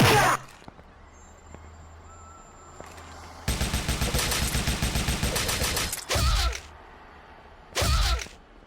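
Loud gunfire in a video game during a stealth kill: a rapid, close burst of shots, preceded by a sharp crack and followed by two more heavy, isolated blasts, with game sounds between.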